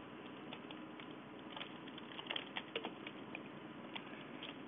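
Someone types on a computer keyboard, a quiet irregular patter of key clicks with brief bursts of faster strokes.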